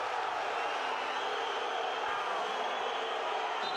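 Basketball arena crowd at a FIBA Europe Cup quarter-final, Elan Chalon against Cibona, disapproving of a foul call with a steady, loud roar of massed voices that stays constant throughout.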